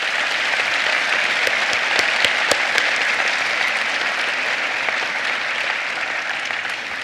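Families at a 2023 School of Dentistry commencement give sustained, loud applause from a large crowd, a dense continuous roar of clapping with occasional sharper claps standing out near the front.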